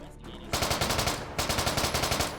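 A video game gun fires rapid automatic bursts, two loud rattling volleys of evenly spaced shots separated by a short pause, close and punchy.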